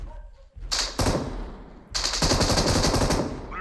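Rapid automatic gunfire in a video game, two sustained bursts of bullets close and loud, separated by a brief gap, with no voices over them.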